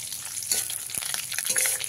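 Black mustard seeds and curry leaves frying in hot oil, a dense continuous crackling sizzle with small pops, close and fairly steady for a brief moment, no talking.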